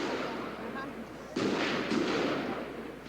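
Two sudden bursts of gunfire crack out during the 1988 strike at Brazil's Companhia Siderúrgica Nacional steelworks, over a constant rumble of background noise, fairly distant and heavy.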